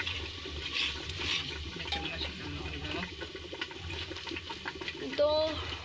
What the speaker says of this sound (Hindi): 1/2 गिलास पानी डाल दिया हमने इसमें